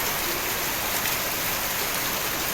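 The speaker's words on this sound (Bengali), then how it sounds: "অঝোর বৃষ্টি পড়ছে মুষলধারে" Heavy rain pours down steadily, a dense, even roar of downpour that fills the space without a break, loud and close.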